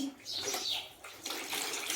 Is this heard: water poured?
yes